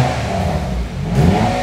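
A new Hyundai i20 with a resonator-deleted cat-back exhaust revs loudly nearby, a deep bassy engine roar that swells and dips briefly, with no talking.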